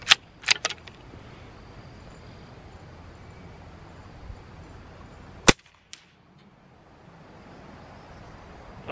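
A CZ 457 .22LR rifle fires at a steel plate at 100 yards: a few sharp, close cracks separated by quiet stretches, with faint metallic pings coming back from the distance.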